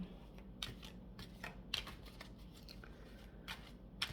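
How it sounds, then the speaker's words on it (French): Oracle cards are shuffled in soft, quiet bursts of riffling and flicking, several brief crisp flutters spaced irregularly over a faint background. "allons brasser les cartes"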